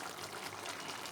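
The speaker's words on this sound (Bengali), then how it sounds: "এবার এর মধ্যে ঘি অ্যাড করব।" Ghee poured into a pan of jackfruit curry (echorer dalna) makes a faint, brief, even hiss lasting about a second, with no talking.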